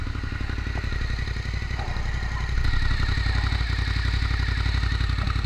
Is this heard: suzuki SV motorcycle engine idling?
yes